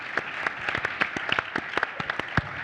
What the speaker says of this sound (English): another round of applause, please, for the entire team here who put this together